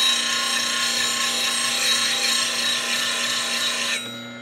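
A woodturning gouge is pressed against a spinning steel CBN sharpening wheel, giving a loud, steady metallic grinding hiss with a constant motor hum, which eases off near the end as the tool lifts away; no talking.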